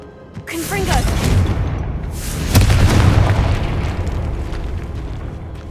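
Confringo blasting spell explosions in the Hogwarts Legacy video game, set in a tomb: a heavy boom swells early, then a second sharper blast rolls into a long rumbling decay, with a voice speaking over it.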